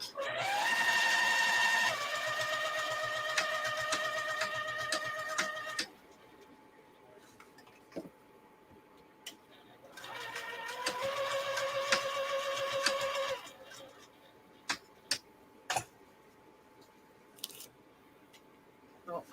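A sewing machine stitches a carry-all zippered bag in two sustained runs of tonal whirring, close and moderately loud, followed by quiet stretches with a few scattered clicks and taps.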